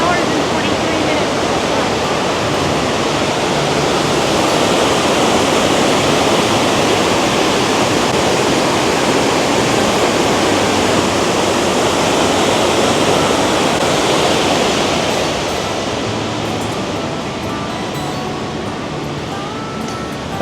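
A waterfall roars steadily beside an alpine mountain trail near Lauterbrunnen in the Bernese Oberland, a loud, continuous rush of falling water that eases slightly toward the end.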